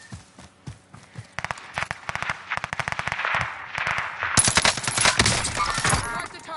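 Rapid bursts of automatic gunfire and single shots crackle in a duos shooter video game, close and loud, building into dense overlapping volleys with sharp high-pitched ricochet noise near the end.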